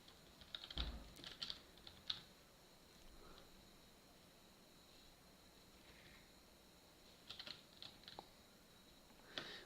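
Typing on a computer keyboard, quiet and close: short clusters of key clicks near the start, sparse taps through the middle and another burst toward the end, with no talk.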